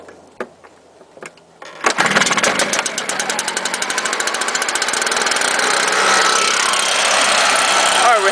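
A STIHL chainsaw is cold-started: a couple of quiet pulls and knocks, then the engine catches and runs at a loud, steady high idle right up close.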